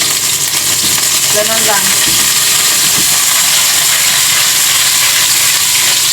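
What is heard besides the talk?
salmon frying in hot oil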